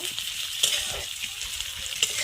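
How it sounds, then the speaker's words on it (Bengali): Sliced onion with a whole bay leaf and cumin seeds frying in oil in a kadai, a steady close sizzle broken by the clicks and scrapes of a spoon stirring. "আমি কড়াইয়ে একটু তেল দিয়ে আর একটা বড় পেঁয়াজ কেটে দিয়েছি আর একটা গোটা তেজপাতা দিয়েছি আর একটু গোটা জিরে দিয়ে একটু ভালো করে নাড়ি চাড়িয়ে নিচ্ছি"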